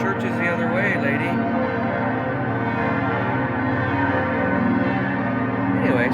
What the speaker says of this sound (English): certain days you get to hear the bells like this for what seems like 20-30 minutes sometimes.